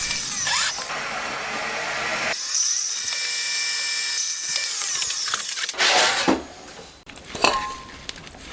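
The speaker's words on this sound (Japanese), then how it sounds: "キャブレター取り付け用のネジ穴も開けていきます。" A power drill bores screw holes in a handmade intake manifold for mounting the carburetor on a Honda Monkey engine converted to a 124.4cc four-cylinder, whirring in bursts with pauses, metallic grinding and clattering between runs.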